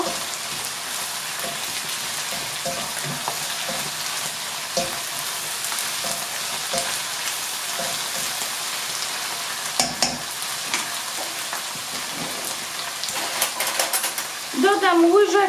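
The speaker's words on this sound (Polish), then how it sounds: "Dodam teraz tutaj nasz czosnek i ostrą papryczkę." Garlic and hot chili pepper sizzle in a frying pan with a steady, close, rain-like crackle and occasional stirring scrapes; a voice briefly enters near the end.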